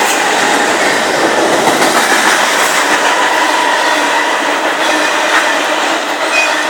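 Close and loud, a train passes at Elk Creek, a dense continuous roar of rolling cars with rhythmic clickety-clack from the wheels and no voices over it.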